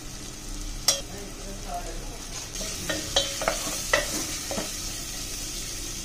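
Everest biryani masala sautés in oil in a pan, a soft continuous sizzle under a series of sharp scraping and tapping strokes from a spoon or spatula stirring.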